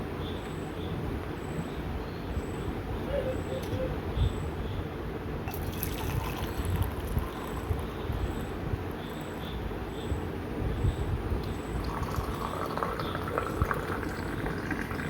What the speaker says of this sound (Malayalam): ചായ ഒഴിച്ചപ്പോഴത്തേക്കും ചൂടും അങ്ങനെ ആവി